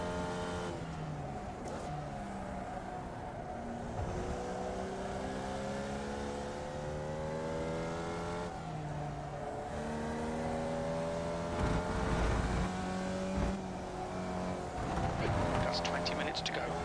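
A race car engine revs hard and climbs through repeated rising pitch sweeps with upshifts during a racing session, loud and continuous, while a voice talks over it.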